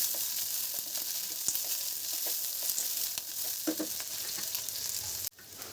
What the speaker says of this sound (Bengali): পেঁয়াজটা আমি একটু হালকা লাল করে ভাজবো